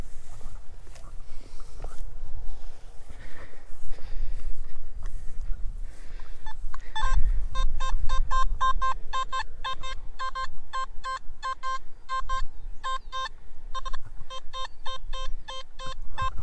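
A Simplex metal detector with a 9.5x5 inch coil is swept over a buried low-conductor target about 6 inches deep. Quiet rustling comes first, then a rapid run of sharp, repeated electronic beeps takes over for the second half.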